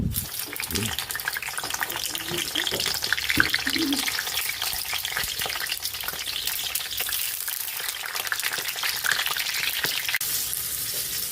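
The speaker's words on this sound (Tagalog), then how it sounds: "Magpiprito na tayo ng ating pritong talong." Eggplant fries in oil in a pan, sizzling and crackling continuously, a dense close hiss with occasional pops and faint talk beneath.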